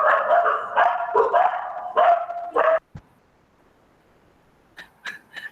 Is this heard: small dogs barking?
yes